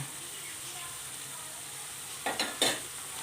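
Whole fried anchovies for a fish pickle tipped into boiling vinegar and stirred: a steady low simmering hiss, then a few short, louder scraping stirs close by near the end.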